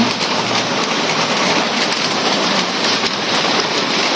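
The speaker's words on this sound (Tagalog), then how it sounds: "Ang ulan." Heavy rain pouring steadily, a dense, continuous hiss of drops hitting surfaces, loud and close with no pauses.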